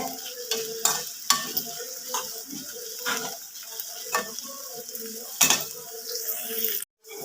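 Okra stir-fried with turmeric for a Kerala mezhukkupuratti, a soft sizzle broken by the scrape and knock of a spatula against the pan at irregular intervals, close by, with no talk.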